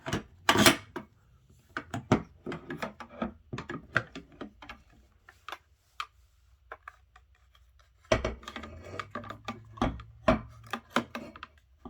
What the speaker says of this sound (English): First you gotta, of course, put your bolt carrier group back in this way.